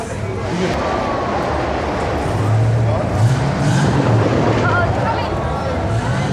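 Cars rev their engines at a Cars and Coffee meet in Modesto, a continuous engine roar with swells in the middle, heard under wind buffeting and nearby conversation.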